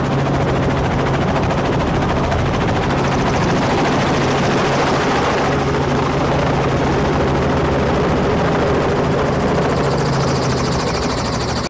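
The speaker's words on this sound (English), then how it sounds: "the helicopter in the behind is the one which carried us" Helicopter rotor and engine noise, loud and steady throughout, as the craft comes in to land at the end of a sightseeing tour at a Top End safari camp.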